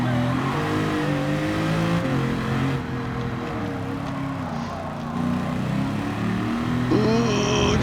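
A NASCAR race car engine in a video game holds a loud, steady high-revving drone with shifting pitch as the car runs downhill, rising again near the end, continuous and close.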